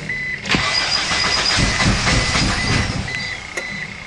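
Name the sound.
Eagle Summit car engine cranking after head gasket repair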